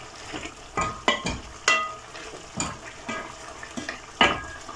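Tripe (matumbo) stirred in a pan, with a series of sharp scraping and clinking strokes every half second or so over a low background sizzle, close and clear, with no voices.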